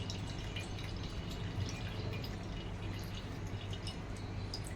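Water drips and trickles steadily from curd being pressed and squeezed in a cloth, a soft continuous patter without any voices.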